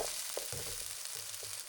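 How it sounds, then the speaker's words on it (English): Half a large diced onion fries in a pan over medium heat, a steady broadband sizzle running throughout with a few soft clinks and stirring scrapes; no talking. "Start by frying a half of a large diced onion over medium heat until it begins to soften."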